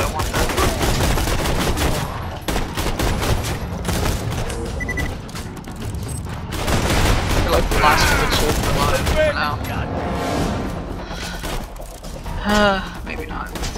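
Dense gunfire and rapid machine-gun bursts rattle on without pause in the Borderlands 2 video game, loud and close, while a person talks over the fighting.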